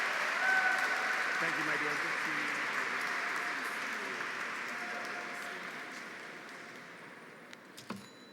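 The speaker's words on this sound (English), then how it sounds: "Please give him another round of applause for his powerful renditions tonight." Audience applause after a performance of powerful renditions at a Black History Month cultural event, a broad, steady clapping wash that slowly fades, with a brief spoken thank-you near the end.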